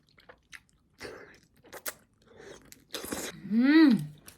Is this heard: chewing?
yes